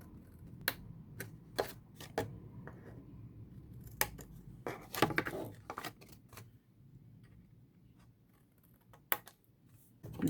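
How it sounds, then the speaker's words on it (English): Scissors cut the sides off a paper card for a handmade Valentine's Day card, heard close up as a series of crisp, separate snips at irregular intervals, with quiet paper handling between them. "we're going to cut off these sides here completely, like so"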